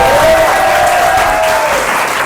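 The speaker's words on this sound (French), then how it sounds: "On peut les applaudir très très fort." Steady, loud applause from an audience at a live comedy hypnosis show, a dense wash of clapping filling the whole moment, with a faint voice-like tone drifting over it.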